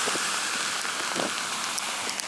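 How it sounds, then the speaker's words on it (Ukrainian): Freezing rain falls outdoors on a winter day, a steady close hiss of drops spattering on icy surfaces with a few sharper ticks and no voices. "Йде дощ, на дворі мінусова температура, це все моментально обмерзає"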